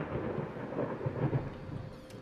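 Thunder rolls during a rainstorm in the horror game Layers of Fear, a low, moderately quiet rumble that swells briefly in the middle over a steady bed of rain, with no talking.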